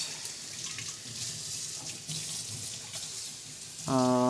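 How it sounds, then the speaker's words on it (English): Water runs steadily from a kitchen tap as something is rinsed out, a soft continuous rush up close, ending in a louder tonal burst as the flow changes. "Let me rinse this out."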